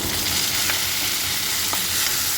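Dry red chillies and okra sizzle in a pan with garlic, a dense, steady crackling fry close to the microphone with faint stirring clicks.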